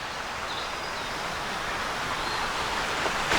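Steady broadband rush of a creek spilling over small cascades along Tom's Creek in the Delaware Water Gap woods, a constant, close, even wash of flowing water with no voices.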